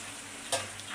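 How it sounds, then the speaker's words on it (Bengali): Dried fish frying with taro and potato in a pan on a village kitchen stove, a steady low sizzle with a brief burst of stirring and scraping near the middle and again at the end. "আমার কিন্তু শুটকি ভাজিটা প্রায় হয়ে আসছে।"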